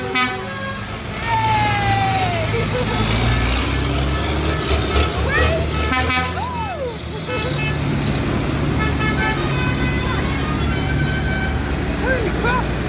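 Tractors rumble past in a Christmas tractor run in Haverfordwest, with steady engine drone and several horn toots rising over the crowd, while onlookers talk and exclaim nearby.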